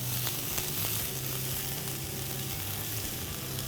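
Green capsicum and yellow bell pepper stir-fry in a wok over a low flame for a Jain American chopsuey, giving a steady, close sizzle with faint clinks throughout and no talking.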